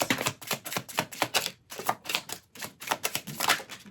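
Oracle cards from a Wild Woman Oracle deck being shuffled by hand, a quick run of crisp riffling flicks in bursts with brief pauses, close and fairly loud.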